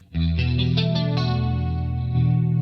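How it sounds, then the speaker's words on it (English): A short held guitar chord shimmers with a wavering, doubled chorus effect, steady and moderately loud. "Then we have chorus"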